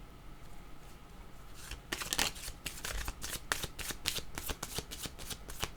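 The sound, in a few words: tarot cards being shuffled to draw a card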